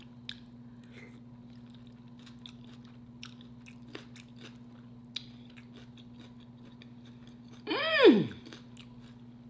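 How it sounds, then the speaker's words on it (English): Raw jalapeño being bitten and crunched while eating, a single short burst of chewing close up near the end, following a quiet stretch with a faint steady hum and a murmured sound of enjoyment. "What I'm crunching is those jalapenos, raw jalapenos"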